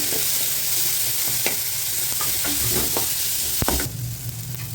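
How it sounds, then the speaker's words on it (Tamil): Onions fry steadily in a pan with a constant close sizzle, broken by scraping stirs of a spatula, while masala idli is being cooked. "வெங்காயம் கொஞ்சம் வதங்கிடுச்சு"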